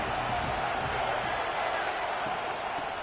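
Auburn football stadium crowd roaring on a third-down play, a dense, steady wall of cheering and noise, loud and unbroken throughout.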